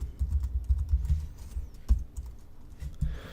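Typing on a computer keyboard, a quick run of light plastic key clicks followed by a pause and a few more taps, close and clear with no voice.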